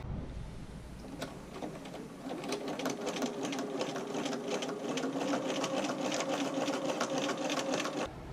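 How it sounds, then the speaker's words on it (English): A sewing machine runs a zigzag stitch to attach a fabric strap, a steady close mechanical whir with rapid ticking that picks up slightly in loudness partway through and continues without talk. "And then I'm going to sew this into place with a zigzag stitch"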